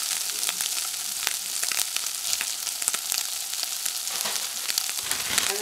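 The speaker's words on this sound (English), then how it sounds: "my ham and turkey is heating through" Ham and turkey sizzle steadily in a hot pan, a dense continuous crackle of frying with scattered sharper pops and light clicks, close and fairly loud throughout, with no voices.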